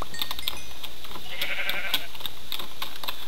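A Minecraft sheep gives a short, thin bleat in the middle, standing out above quiet game ambience with faint clicking through the rest.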